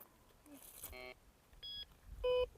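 A metal detector sounds several short electronic beeps over a found target at a copper mine ruin site, tonal bursts spaced apart with a sustained steadier tone near the end, faint outdoor background.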